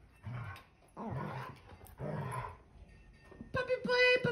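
Playful dog growls and rough snarls come in short bursts with pauses, ending in a louder, higher flurry of yaps and growls close by.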